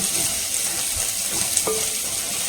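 Garlic sautés in a pan for rasam, a steady soft frying hiss close by, with a light clink of a utensil partway through and no talking.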